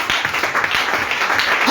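A church congregation applauds during a Christmas Day Sunday service, a dense, continuous wash of many hands clapping together, loud and close throughout.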